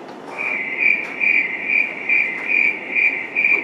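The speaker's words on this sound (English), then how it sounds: "It must be a cricket in the thicket." Cricket chirping in rhythmic bursts, a bright, piercing trill repeating about twice per second, loud and close, alone with no talking.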